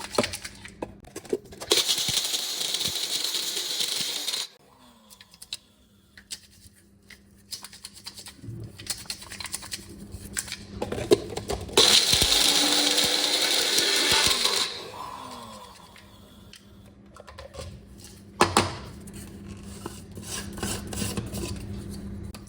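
A mixer grinder whirs in loud bursts while dried fruit peels for homemade pectic enzyme powder rasp and rattle inside the jar, with pauses and shaking between runs.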